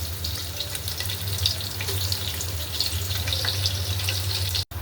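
Onion with cardamom and cinnamon frying in oil for white pulao, a steady close sizzle with faint crackles throughout, a low hum underneath and a brief dropout near the end.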